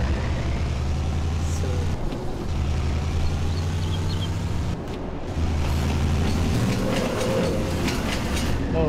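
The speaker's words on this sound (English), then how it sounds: "I'm not sure when the train's gonna come through" A train rolls past in the video game Farming Simulator 22 with a continuous low rumble and light clacking, fairly loud and steady, with no talk.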